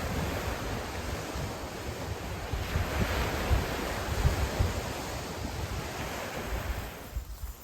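Ocean surf rolls steadily onto a remote island beach on North Manitou Island, with gusting wind buffeting the microphone throughout; a continuous broadband wash with swells building and easing, no voices.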